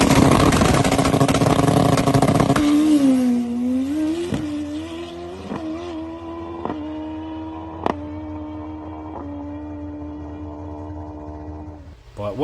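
A drag bike on Fueltech tuning roars hard off the line, then settles into a wavering drone down the track, broken by several sharp pops and stutters as the engine breaks up, with a voice talking over it.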